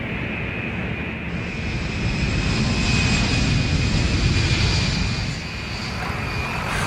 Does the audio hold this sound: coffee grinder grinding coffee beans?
no